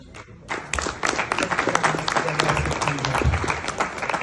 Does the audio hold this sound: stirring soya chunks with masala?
no